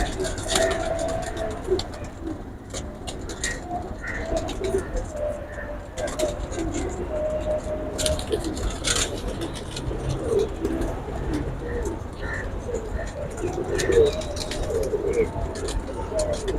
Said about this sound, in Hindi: ये फुलसरे कबूतर हैं